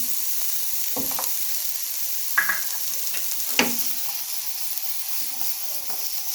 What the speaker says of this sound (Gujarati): એક મીડિયમ સાઇઝની ડુંગળી લીધી છે, એને આપણે આની અંદર એડ કરી દઈશું